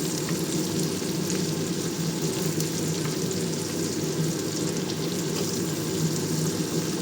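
Pumpkin pieces hitting hot oil in a pan, a steady dense sizzle and crackle of frying that runs unbroken and fairly close throughout.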